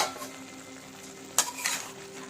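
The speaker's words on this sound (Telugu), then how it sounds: "కర్రీ అంతా తిప్పుకోండి" A spoon stirs a vegetable pulusu curry with tomato and raw mango pieces, giving a low simmering hiss and a couple of quick scraping clinks against the pan, brief and fairly faint, with no voices.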